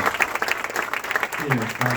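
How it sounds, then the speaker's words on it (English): Brief audience applause for a film's consultants, a dense patter of clapping with a voice speaking over the final moments. "Let's give them a applause"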